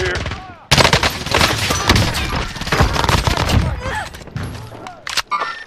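DMR rifle gunfire in a shooter video game, rapid bursts of sharp loud shots packed closely together, continuing for several seconds with brief pauses, with voices talking over the fire.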